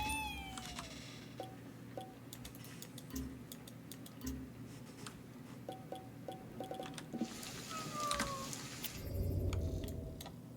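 A cat meows a few times inside the video game Ghostwire Tokyo, faint and set into a busy ambient game soundscape with ticking and scattered electronic tones.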